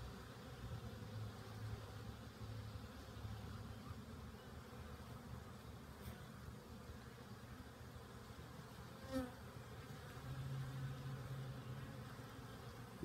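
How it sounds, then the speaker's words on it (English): Steady, dense buzzing of many honey bees around hives in an apiary, continuous and close, with occasional louder passes of individual bees near the microphone. "Lots of bees out, especially this hive here."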